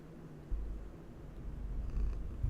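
A cat named Willa purrs close up, a low, rumbling, pulsing purr that swells in steady waves across the whole moment with no talking.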